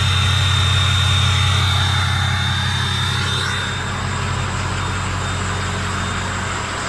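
A deep, steady idle from a 6.0 Powerstroke diesel truck engine, a low rumble with a high whine above it, continuous and fairly loud, easing slightly partway through.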